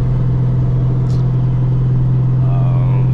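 A cammed Ford Mustang GT S197 with a 3-valve V8 drones loudly and steadily from inside the cabin while driving, a constant low exhaust rumble with no distinct pops audible.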